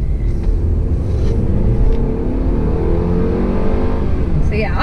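A 2017 Mercedes-Benz E300 sedan accelerates in comfort mode with a loud, steady engine drone and rising rumble, heard from inside the cabin.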